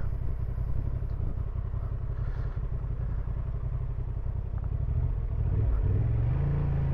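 A Honda Transalp 750 motorcycle spinning around on muddy ground, its engine a close, steady low rumble with a slight rise in revs near the end; no speech.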